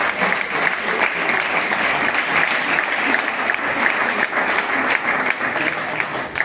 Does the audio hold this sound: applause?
yes